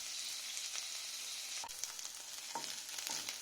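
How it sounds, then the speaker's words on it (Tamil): Ingredients sauté in a pan until golden for a chilli idly dish, with a steady loud sizzle and frying hiss. Occasional stirring scrapes cut through, and no one speaks. "நல்லா கோல்டன் கலரில் வர வரைக்கும் நல்லா வதக்கிக்கோங்க."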